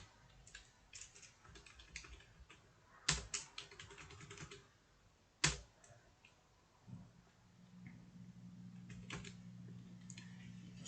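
Typing on a computer keyboard as a filter name is entered in Odoo software: quiet, irregular clusters of key clicks with a few sharper taps, then a low hum settling underneath near the end.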